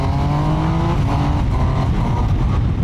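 A Triumph Trident 800 triple-cylinder motorcycle with traction control switched off, accelerating hard through the first gears and lifting into a wheelie; loud, steady engine drone rising in pitch, heard up close throughout.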